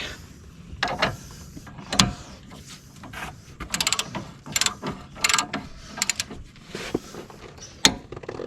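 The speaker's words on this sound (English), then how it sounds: "We get a torque wrench, and we'll set our torque." Torque wrench ratcheting on the wheel hub of a 2008 Chevy Suburban 2500, a series of close, sharp clicking bursts in irregular clusters over a quiet workshop background.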